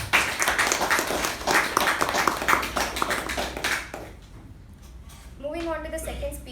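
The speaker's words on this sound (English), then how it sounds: "Let us give the speaker and the evaluator a thunderous round of applause." Applause from the audience at a Toastmasters club meeting, following a speech and its evaluation, fills the room as dense, steady clapping for about four seconds, then fades out while a voice starts talking.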